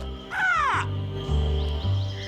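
A raven caws loudly once, a harsh descending call, set over a steady low hum and background music in a children's animated story about a dinosaur egg.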